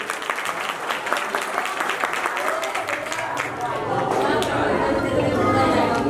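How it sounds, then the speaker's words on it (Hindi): A crowd at a district-level Koli community conference applauds in a dense, continuous patter. Chatter joins in, and a low murmur of voices swells toward the end. "तो एक बार ताली बहन जी के लिए भी हो जाए"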